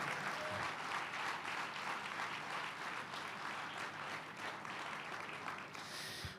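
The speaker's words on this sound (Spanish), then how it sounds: "Fuerte ese aplauso de alabanza al Señor." Church congregation gives a loud, continuous round of applause in praise, a thick even clapping texture filling the room for several seconds before tapering at the end.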